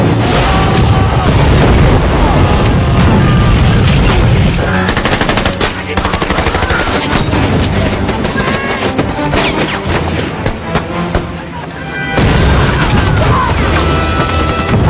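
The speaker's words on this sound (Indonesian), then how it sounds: "tiba-tiba dari arah belakang mereka dihujani peluru sama tentara Jepang" A war film battle on Saipan sounds loud and dense, with bursts of machine-gun fire, scattered gunshots and booming explosions overlapping almost continuously.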